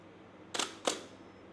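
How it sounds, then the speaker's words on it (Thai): A Hasselblad 2000-series camera fires its in-body focal-plane shutter at about a quarter second, giving two crisp mechanical clacks a moment apart in a quiet room. "อันนี้คือเสียงชัตเตอร์จริง ๆ เราไม่ได้ใช้ชัตเตอร์ที่ตัวเลนส์แล้วนะครับ เราใช้ตัวชัตเตอร์ ที่ตัวกล้อง"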